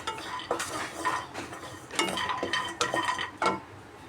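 Roasted nuts scraped out of a kadai onto a plate, a close run of metallic scrapes, clinks and rattles with faint sizzle underneath and no talk.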